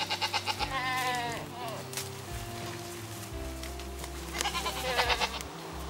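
Goats at the Erie National Wildlife Refuge bleat in two wavering bursts, with a voice speaking and outdoor rustle in between.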